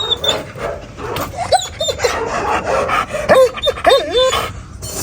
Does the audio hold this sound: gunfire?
no